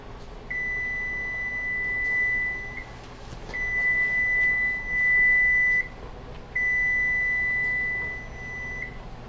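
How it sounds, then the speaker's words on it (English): During butter canning, a kitchen timer gives three long, steady electronic beeps, each lasting a couple of seconds with short gaps between them, over a quiet room hum. "Okay, time's up. Cut timer off"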